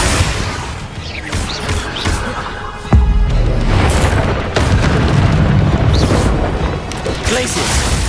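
Spell effects and explosions from the video game Hogwarts Legacy, with a sudden heavy boom about three seconds in and a dense run of crashing, rumbling bursts after it, loud and continuous under game noise.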